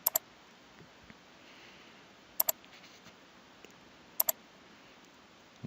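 Crisp double clicks of a computer mouse sound in three evenly spaced pairs against a quiet background, close and distinct.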